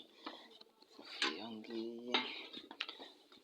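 Metal cooking pot handled in a home kitchen while preparing a bean sauce, with a few clanks and scrapes of metal on metal, one ringing tone and some quiet voice in the background.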